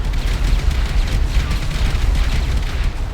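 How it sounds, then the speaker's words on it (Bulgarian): A continuous roaring rumble of 24 explosives detonating on a train in GTA 5, loud and dense, with no clear gaps between the detonations. "това са 24 експлозива и те не му направиха нищо"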